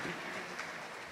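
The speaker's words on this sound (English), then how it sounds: "please, big applause for Elena" Audience applause for a conference speaker on the Summit Stage, a short steady burst of clapping filling the hall at moderate level.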